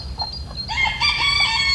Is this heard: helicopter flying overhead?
no